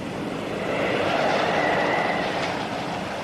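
A train rolls along its rails in a steady, close, broadband rumble with a faint high whine, continuous for a few seconds with no voices.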